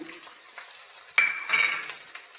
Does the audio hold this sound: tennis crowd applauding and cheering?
no